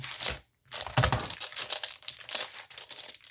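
Close, crackly crinkling and tearing of plastic packaging around bracelet-making supplies in quick irregular bursts, with a short pause near the start and no talking.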